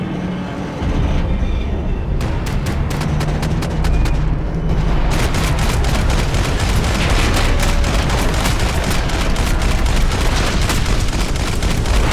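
Gunfire in the video game Max Payne 3 rattles almost continuously: dense, loud shots pile up over a constant roar, with a quieter, sparser stretch near the start.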